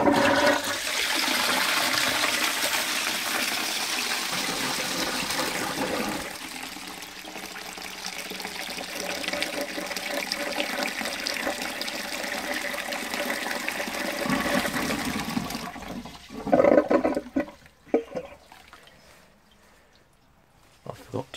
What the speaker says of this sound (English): Full flush, press and hold. You can tell it's pretty eager to go then